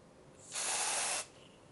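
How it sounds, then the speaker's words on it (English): Quick Stop wound spray comes out of a bottle in one short, close aerosol hiss that lasts well under a second against a quiet background. "Shake the bottle and spray onto the wound or cut from a 15 centimeter distance."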